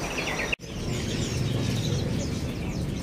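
A male mangrove teledekan bird calls in a bird kiosk, giving bright, repeated chirping notes over steady background hubbub, with one brief sharp click partway through.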